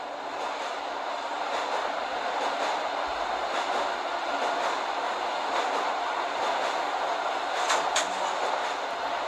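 A subway train runs steadily in the Subway Simulator 3D game, with a continuous rumbling roar, faint rhythmic clicks of wheels over rail joints and a brief brighter squeal near the end. No one speaks.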